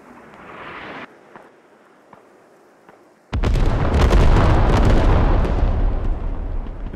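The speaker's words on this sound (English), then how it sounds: "The nice artillery." Artillery shells exploding in the military shooter game Squad, a loud sudden blast that erupts into a sustained rumbling barrage, following quieter distant thumps.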